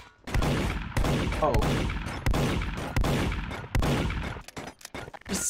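Gunshots in the sandbox video game Garry's Mod, a string of sharp, loud evenly spaced shots roughly every second, close and punchy, with brief voices talking between them.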